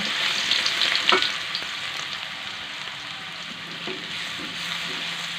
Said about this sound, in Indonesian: Kemudian kita panaskan 3 sendok makan minyak goreng. Setelah panas, kita masukkan bumbu bawang putih yang kita geprek tadi